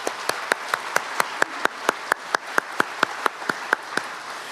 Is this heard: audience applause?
yes